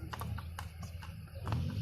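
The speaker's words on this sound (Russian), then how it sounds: "Вот, смотрите, конь." Horse hooves clip-clop in a loose, uneven series of sharp knocks outdoors near a canal, moderately close over a low background rumble.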